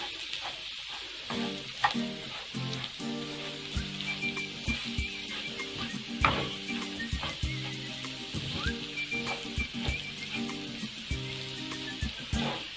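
Salt is stirred into a cooking pot of stuffed vine leaves (yaprak sarması) with a steady run of clinks and scrapes over a constant sizzling simmer, with no voices.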